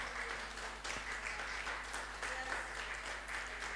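Fairly faint applause from a church congregation clapping for Jesus during a sermon on prayer, a steady scattered patter with a low hum running underneath.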